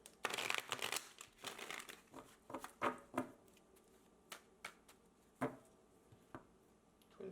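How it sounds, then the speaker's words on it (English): Tarot cards being shuffled at close range, a run of dense papery riffles and crinkles followed by sparser flicks and taps, alone without talk. "Let me give it another shuffle."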